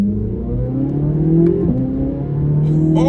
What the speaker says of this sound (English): Now I'm sitting here listening to this beautiful engine as it just goes crazy behind me.